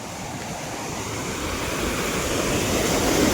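Sea waves roll in at Madhavpur beach in a continuous, near surf roar that swells steadily louder, with wind across the microphone and no voices.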